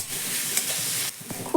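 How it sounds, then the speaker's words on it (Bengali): Raw potato pieces are stirred with spices in a pan, a steady close sizzle and hiss with soft scraping of the spoon running throughout. "এবার মশলার সঙ্গে আমি আলুটাকে একটু নাড়াচাড়া করে মিশিয়ে নেব।"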